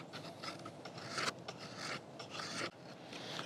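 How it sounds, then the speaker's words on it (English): A Kizer Area Eight fixed blade knife carving fatwood, giving a steady, close rasping scrape of blade on resinous wood in repeated strokes with brief breaks, heard alone without talk. "But we can carve a little bit of this fat wood here."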